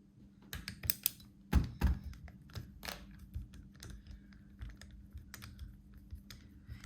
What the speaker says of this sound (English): I'm going to use a PH1 bit, and I'm going to remove the 4 screws on the display.